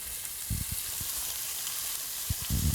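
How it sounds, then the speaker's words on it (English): Salted and peppered chicken sizzling in a pan, a steady soft frying hiss with a few low knocks and clatters of the pan and utensils, no voices. "I'm going to put the salted and peppered side down first. And you want that loud sizzle."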